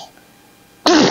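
A single sharp sneeze bursts out close and loud at the very end, after a near-silent stretch.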